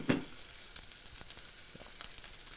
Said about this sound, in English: the lovely sear.